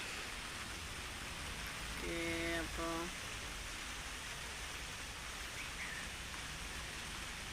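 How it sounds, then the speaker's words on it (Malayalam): The first rain of the season falls steadily in Pune with a dense, even hiss of rain on surfaces. A brief faint voice rises midway. "ഓ, അപ്പോൾ ഇങ്ങനെയാണ് മഴ, ഇങ്ങനെ ഫസ്റ്റ് മഴ"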